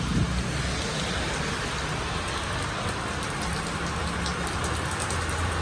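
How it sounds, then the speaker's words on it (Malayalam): Heavy rain pouring outdoors, a constant dense hiss of drops striking surfaces with a low rumbling undertone, steady and loud throughout without any speech. "നല്ല മഴയുണ്ട് കേട്ടോ, നല്ല മഴയുണ്ട്."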